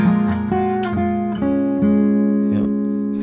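Electric guitar playing a riff, loud and close, with repeated sharp picked attacks over ringing sustained notes in a steady rhythmic pattern, no talking.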